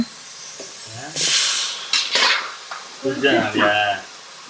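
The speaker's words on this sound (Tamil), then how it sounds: "நம்ம சிக்கனை சேர்த்து வதக்கிடுவோம்." Chicken sautéing and being stirred in a pan in a home kitchen, with bursts of sizzling hiss and scraping stirs, interleaved with someone talking over the cooking.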